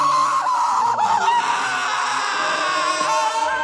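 A shrill, sustained scream from an anime ending scene, piercing and warbling with a squeaky, almost electronic, bird-like quality, held continuously for several seconds.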